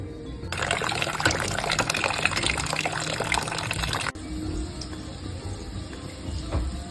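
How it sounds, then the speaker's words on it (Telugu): Water is poured into a rasam mixture of coriander and rasam powder, making a steady splashing stream for several seconds. The stream then stops, leaving a quieter kitchen background. "దీంట్లో ఇంకా కొన్ని నేను వాటర్ పోసుకుంటున్నాను"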